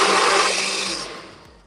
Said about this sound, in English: So let's make the noise. Lid on the blender.